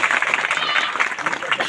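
An audience at a devotional gathering claps together, a dense burst of applause with voices mixed in, loud and sustained across the short moment.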